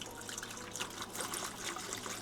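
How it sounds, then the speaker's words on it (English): A Hoya Pubicalyx houseplant in very well-draining soil is watered, giving a faint, steady trickle with soft splashing and dribbling throughout and no voices. "I want to water my Hoya Pubicalyx."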